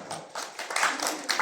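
Guests at a wedding ceremony break into applause, uneven bursts of clapping building over a second or so.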